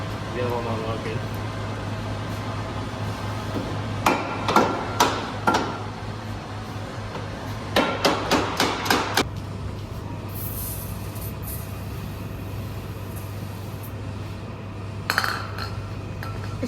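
A hammer strikes a car suspension part while fitting lower control arms to a Vauxhall Corsa VXR, two quick bursts of four or five ringing metallic blows and a later single hit, over a steady hum with a voice talking.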